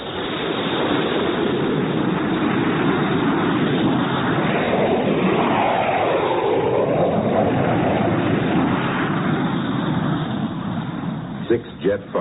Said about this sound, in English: Six jet fighters were taking off from Hink Field when Chuck Connor showed his pass